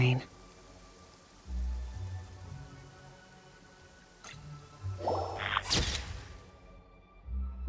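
Steady rain falls in the video game Genshin Impact, a soft continuous patter running beneath low rumbling tones and a few sharp clicks and swishes, with brief speech-like sounds layered in.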